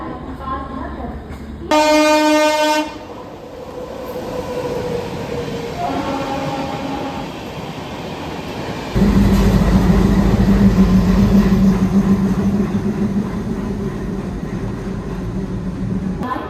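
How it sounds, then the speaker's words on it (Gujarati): An empty freight train rumbles steadily past at close range through a railway station, preceded by a loud horn blast and an announcement-like tone, with people talking nearby. "કોઈ તો ટ્રેન આવે છે અત્યારે"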